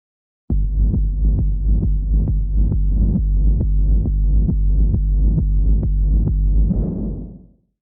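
A heavy kick drum distorted with Crunch Crusher and low-passed around 200 Hz thumps in a steady, even rhythm for a techno track, deep and muffled, ending in a decaying rumble.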